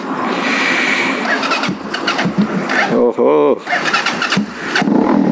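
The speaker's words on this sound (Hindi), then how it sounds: "इस तरह स्टार्ट होती है बाइक हमारी।" A motorcycle engine cranks and catches, then revs up and idles in bursts with a brief pause between, close by and loud while people talk over it.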